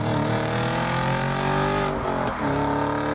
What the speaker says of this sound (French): Après, le V8 fait un bruit aussi.